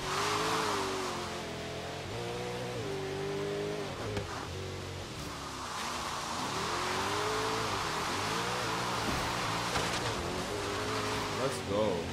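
A Lamborghini Aventador's engine in Forza Horizon 3 revs hard and steadily without shifting, a loud continuous howl with rising and falling pitch through the whole stretch of the race.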